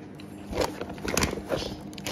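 Crunchy fresh grapes bitten close to the mic, giving two or three crisp crunching bites with juicy crackle over about two seconds, no talking.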